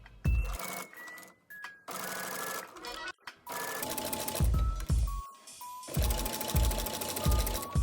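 Sewing machine stitching T-shirt fabric for a crop top, close, loud bursts of rapid stitching broken by short pauses, no talk.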